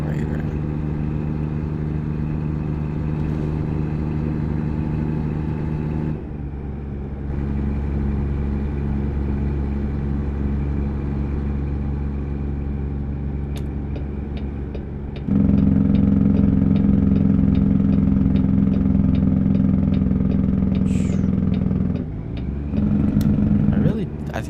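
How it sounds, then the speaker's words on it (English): A rental truck idles in American Truck Simulator, a steady low rumbling drone that cuts out briefly and returns louder, with a person talking over the engine at times. "I think this is the best like rental truck I've ever driven. It sounds amazing."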